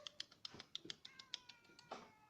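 A cat meows repeatedly in short, faint calls while being given food, mixed with soft handling noises and no speech.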